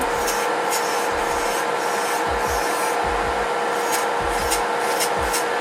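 An electric nail drill spinning at 22,000 RPM files around a cuticle on a builder gel manicure, a steady high whine with repeated short grinding strokes, close and loud, with no talking.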